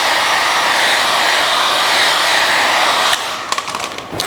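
A heat gun blows a loud, steady, close hiss of hot air onto vinyl wrap film on a car fender. It cuts off near the end, leaving faint handling taps and rustles.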